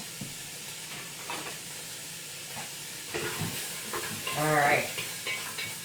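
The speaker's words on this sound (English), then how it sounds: "So, we're just going to stir this now." Garlic and onion sizzle in a pan for a Spanish chicken stew, with a soft continuous frying hiss broken by scraping stirring strokes that grow louder toward the end; a voice speaks briefly.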